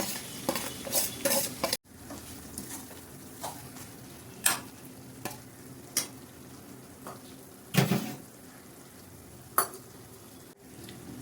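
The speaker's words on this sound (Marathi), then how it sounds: "आणि हा वांग्याचा उरलेला मसाला त्यात घालून घेते" Leftover brinjal masala stirred into a sizzling pan, with a spoon scraping and clinking against the metal in irregular strokes over a soft, steady frying hiss.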